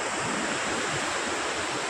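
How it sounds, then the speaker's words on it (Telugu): The flooded Peddavagu stream roars in a dense, steady rush of water, loud and close, with no break or voices for the whole moment. "ఇగో నీళ్ళు అయితే ఉప్పొంగుతున్నాయి, చాలా బ్రహ్మాండంగా వచ్చినాయి నీళ్ళు అయితే"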